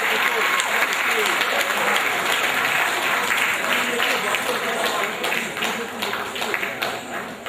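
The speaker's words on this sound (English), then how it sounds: "superbly choreographed dance like this deserves another round of applause, a rousing applause" Rousing audience applause after a dance at a dinner and fellowship evening in Johor Bahru, a full crowd clapping steadily and loudly, thinning slightly toward the end, with a voice faintly audible beneath it.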